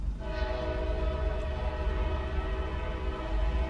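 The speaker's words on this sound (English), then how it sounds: "Now, that's what I call a train horn." A powerful locomotive horn sounds continuously at close range in downtown Shreveport, Louisiana, its steady multi-tone blast layered over low rolling rail rumble.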